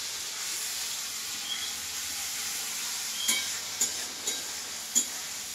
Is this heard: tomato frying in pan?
yes